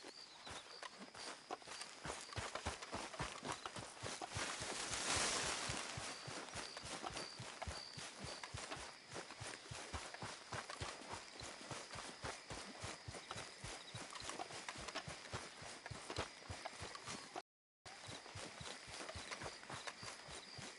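Steady clip-clop of horse hooves walking at an even pace in the video game Red Dead Redemption 2, close and loud, continuing throughout with a brief dropout near the end.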